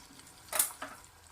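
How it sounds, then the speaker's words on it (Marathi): Paneer cubes fry in a pan with a quiet background hiss, broken by a short bright sizzle-and-clatter burst in the middle and a softer one just after. "पण एका साईडला पनीर फ्राय करतोय"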